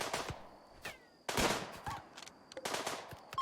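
Scattered bursts of gunfire from several shooters aimed at a warg in the Rimworld video game, sharp irregular volleys separated by short pauses, moderately loud with small in-game sounds between.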